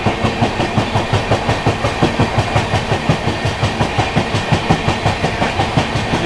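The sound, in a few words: Gorakhdham SF Express train overtaking Purushottam Express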